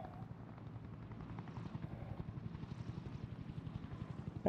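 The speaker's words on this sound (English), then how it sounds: "Helicopter around here somewhere." A helicopter's rotor chops rhythmically and steadily at moderate distance in The Unspoken VR game, a continuous pulsing thump with no voices.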